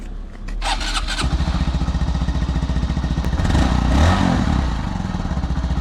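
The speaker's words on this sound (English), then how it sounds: "Monkey Bike is getting a new exhaust, so it's going to sound better than this." A Honda Monkey motorcycle with its stock exhaust idles loudly and steadily up close, with a rough, pulsing exhaust throb and a brief rise in revs partway through.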